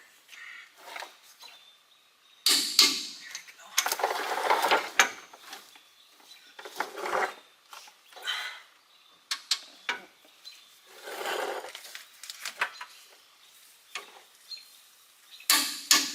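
Repeated ratcheting clicks of a torque wrench tightening the gearbox bolts on a 2005 Dodge to 145 foot-pounds, arriving in short bursts with pauses between pulls, fairly close and loud.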